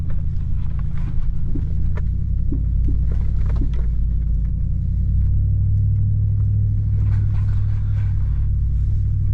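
A vehicle cruising slowly along an off-road trail, with a steady low engine rumble and wind buffeting, and scattered knocks and rattles from the rough ground.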